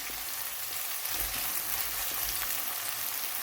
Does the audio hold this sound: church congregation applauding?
no